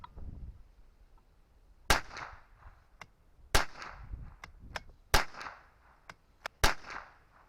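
A Browning Pro-22 .22LR rifle fires several sharp, cracking shots spaced a second or two apart, each a crisp loud report with a short ringing tail, alongside fainter clicks of handling in between.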